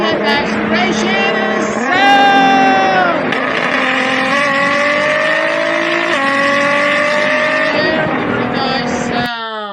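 A Nissan GT-R sports car accelerates hard, its engine note climbing through repeated rising sweeps with gear changes, loud and close, with the car apparently driving in snow.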